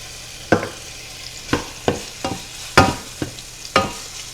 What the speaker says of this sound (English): Now that our ground beef is starting to brown just a little bit, I'm going to throw in the veggies.